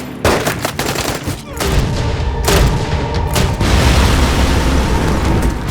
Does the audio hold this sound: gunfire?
yes